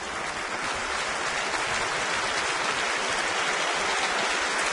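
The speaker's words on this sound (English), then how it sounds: "I'm sure this crowd is going to give him a huge ovation" A baseball crowd in a big-league stadium gives a sustained ovation for an injured player being carted off the field, a dense, steady wash of clapping and cheering that holds loud and even throughout.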